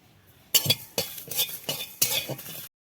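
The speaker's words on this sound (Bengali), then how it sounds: "মশলাগুলো আমি ভেজে নিব একটু মানে হালকা ভেজে নিব" Coriander and dried chillies being lightly fried in a pan for a raw mango pickle, heard as a series of scraping stirs and metallic clinks, about five strokes in an uneven rhythm, with a soft sizzle underneath and silence at the end.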